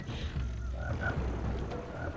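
Frog croaking in the video game Jak and Daxter, soft scattered croaks over a low ambient game background, faint and unaccompanied by talk.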